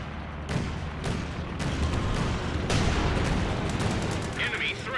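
A Bofors anti-aircraft gun fires in the Company of Heroes 2 video game, a run of sharp repeated shots and bursts over a dense rumbling battle din.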